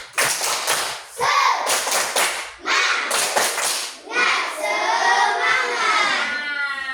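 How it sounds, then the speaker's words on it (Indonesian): A classroom of children doing a rhythmic spirit clap in an Indonesian school lesson, bursts of loud patterned claps broken by short shouted chants from the group, close and lively. "Tepuk semangat."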